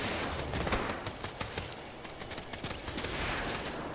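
Rapid bursts of P90 submachine gun fire in Fortnite rattle continuously through a busy firefight, with dense, fast repeated shots that are loud and close.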